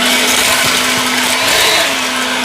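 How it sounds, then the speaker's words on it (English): An EGO Power+ LB7650 cordless leaf blower runs with its nozzle fitted, giving a loud, steady, close rush of air over a constant motor whine throughout. "I'm going to show you on the different speeds."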